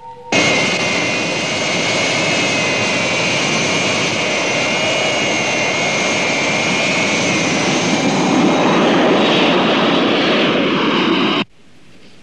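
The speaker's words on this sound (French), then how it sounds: "Est-ce que l'avion est déjà parti? Oui, il vient de décoller." A loud jet airplane roars continuously at full power, a steady high whine over a deep rumble, then cuts off abruptly.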